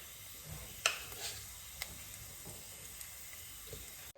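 Cumin seeds in hot ghee in a pan for a chicken masala gravy give a faint, steady sizzle with a few sharp clicks and stirring taps. No one speaks.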